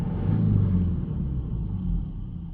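Low rumble from a Subaru Outback 2.0 boxer diesel being revved while idling in place with a suspected blocked DPF; a steady, fairly loud engine drone swells briefly and then settles, with no talk.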